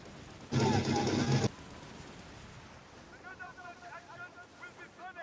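A sailing ship in the Skull and Bones video game moves through wind and waves, a soft airy rush after a short loud burst of game noise, with someone talking over it.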